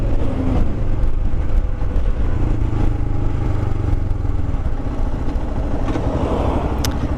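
A Royal Enfield Himalayan motorcycle is ridden, with its engine droning loudly and continuously throughout, mixed with road rumble and clatter.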